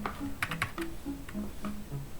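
Keys tapped on a computer keyboard in a quick run of clicks followed by a few slower, spaced strokes, close and clear with a faint low hum behind.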